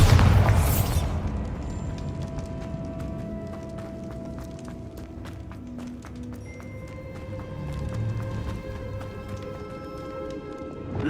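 A Bombarda spell goes off in Hogwarts Legacy as one sharp, loud blast at the start, then fades into soft in-game ambience and music.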